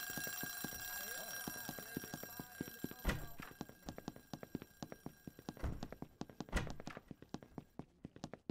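An alarm rings in a video game, a rapid train of clicking, clanging strikes with a few louder hits, steady and fairly close.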